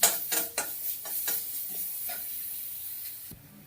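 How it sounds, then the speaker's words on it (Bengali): Onion frying lightly in a pan gives a quiet sizzle, with several sharp stirring scrapes at the start that fade into a soft steady fry. "এখন ওটাকে ভেজে নেবো হালকা"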